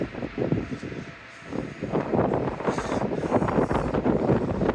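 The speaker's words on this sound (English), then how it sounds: "See how windy it is down here today." Strong wind buffets the microphone in rough, uneven gusts at Stavanger on the Norwegian fjords, a loud continuous roar with brief lulls.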